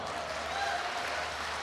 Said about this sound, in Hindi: इस तरफ का मोहल्ला बड़ा उछालेदार तालियां बजा रहा है